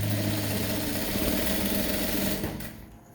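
Sewing machine stitching English-style trousers, a steady close mechanical whir with rapid even needle chatter that runs continuously and then winds down near the end, with no talking.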